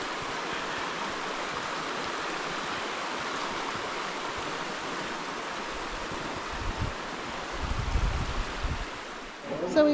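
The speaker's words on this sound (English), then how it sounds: "the water is just trickling down the river or the walls of the canyon to meet the river down below" A river flowing along a canyon floor in Zion, with water trickling down the canyon walls to meet it, gives a steady broadband rush throughout, with a few louder splashing swells near the end.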